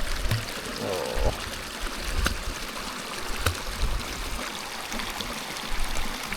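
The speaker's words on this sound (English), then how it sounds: "You're splashing with the bubbles." A dog splashes and paddles in water on a mountain walk, a steady wash of trickling, churning water with scattered sharper splashes close by throughout.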